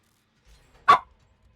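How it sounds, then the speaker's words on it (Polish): A single short dog bark from the video game Dead by Daylight, sharp and fairly loud against near silence. "Piesek szczeka"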